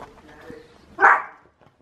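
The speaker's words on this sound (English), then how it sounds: "Are you barking?" A pet dog gives a single short bark close by indoors, preceded by faint background noise and low voices.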